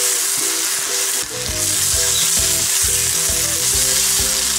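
Onion paste with whole red chillies frying in a pan for a chole masala, a loud, steady close sizzle with occasional stirring scrapes and no voices.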